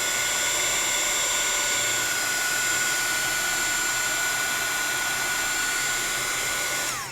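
A heat gun blows a constant, loud whooshing roar with a thin high whine on top as it melts embossing powder, running steadily and then cutting off at the end.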